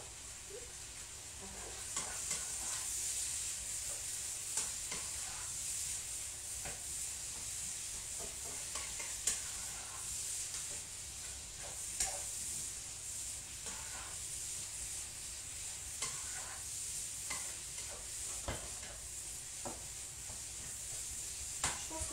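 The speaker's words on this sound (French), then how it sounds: "vous laissez rissoler un petit peu la viande, griller un petit peu la viande" Duck meat browning in a hot pan, a steady soft sizzle and hiss with occasional crackles and stirring scrapes throughout, fairly quiet and with no talk.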